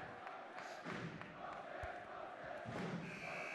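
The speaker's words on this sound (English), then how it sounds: "And you can hear the crowd right now." A home crowd cheers and chants at a high school boys basketball playoff game in a gym, a dense, steady roar with shouting voices rising and falling throughout.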